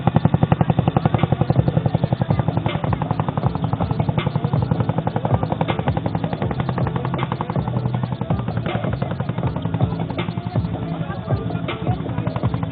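Twin-rotor Chinook helicopters hover low over a lake at an Indian Air Force Day air show, their blades making a loud, rapid, steady thudding chop that continues unbroken throughout.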